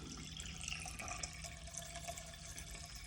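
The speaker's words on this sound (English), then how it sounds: "I like to flush the drain out really good." Water rushes steadily through an air conditioner's condensate drain line as it is flushed out, a continuous close gurgling flow with no voices.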